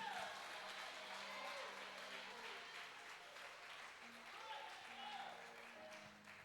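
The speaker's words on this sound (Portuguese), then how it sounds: "Aplauda o nome do Senhor Jesus." A church congregation at a worship service applauds steadily for several seconds, a broad wash of clapping with faint voices and tones mixed underneath.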